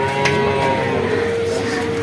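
Young buffalo calves at a livestock market in Perumpilavu, with a continuous low bovine moo and steady crowd and market hubbub throughout.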